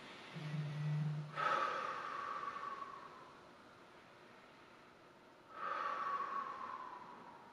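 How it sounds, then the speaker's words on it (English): A person doing abdominal core training takes two deep breaths, each a rushing inhale-exhale about four seconds apart, close and fairly loud, with a brief low snort-like sound at the start. "Take a couple of breaths in and out."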